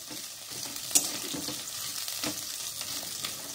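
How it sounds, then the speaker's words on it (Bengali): Sliced onions fry in a wok with a soft, steady sizzle that stays fairly quiet throughout. One small click or pop rises briefly above it. "এই কড়াইতে পেঁয়াজ দিয়ে দিয়েছি আমি।"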